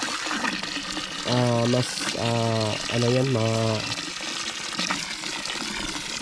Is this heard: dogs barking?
no